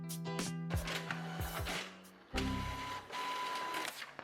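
A home printer runs up close, with whirring motor passes, clicks and the mechanical clunks of its parts moving in short uneven stages, quiet and with no voices.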